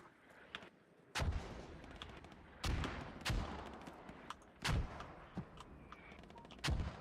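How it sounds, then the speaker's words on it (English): Mortar and artillery fire in the Squad video game, several heavy booming blasts landing at irregular intervals, each with a long rumbling tail over a constant battlefield din, fairly loud and close. "Their mortar fire directly southwest."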